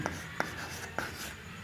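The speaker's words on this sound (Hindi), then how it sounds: "तो अब लिखेंगे" Chalk or marker tapping and scratching on a board during a Class 10 maths lesson on quadratic equations, three short close strokes spaced unevenly in a quiet room.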